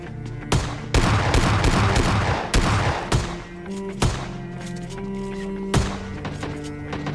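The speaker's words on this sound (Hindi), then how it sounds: "तो बस देखो कैसे उसको S1897 वाली शॉटगन से फिनिश करते हैं।" Close, booming blasts from an S1897 pump-action shotgun in PUBG Mobile Lite, several heavy shots spaced irregularly over a constant background rumble of gameplay.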